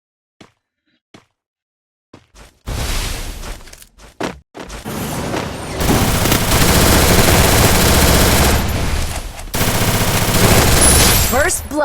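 Rapid video game gunfire bursts loud and close, starting with a few isolated shots before dense sustained automatic fire with brief pauses, under a faint voice.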